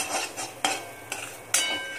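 A spoon mixes turmeric powder and salt into spices for a bittergourd and onion sabzi, giving repeated scraping strokes with three sharp clinks against the pan, close and clear.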